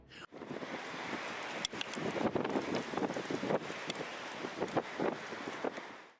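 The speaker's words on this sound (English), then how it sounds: "A gust of wind was seen twisting with a heavy thrust, forcing tall trees to move with its rhythm." Heavy rain whips along with gusting wind, a dense, steady roar that swells and buffets in waves, with rough bursts of wind noise hitting the microphone throughout.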